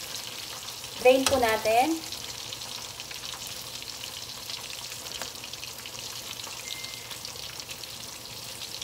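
Chicken wings for crispy salt and pepper wings hiss and crackle as they double-fry in hot oil, with a sharp, loud burst of frying near the start, then a steady, softer sizzle while a person speaks briefly.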